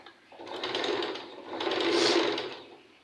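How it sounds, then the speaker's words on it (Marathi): A sewing machine runs stitches along the lining of a puff sleeve in two close, steady bursts of rapid needle clatter, the second slightly longer and louder, with no one talking. "तर आता पलटी करून अस्तर फिनिशिंगची शिलाई देत आहे"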